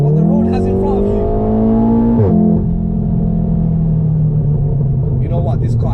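A 2015 Volkswagen Golf R MK7 drives hard, its engine droning loudly and steadily from inside the cabin, with a sharp pitch drop at a gear change partway through and a brief squeal near the end, under occasional talk.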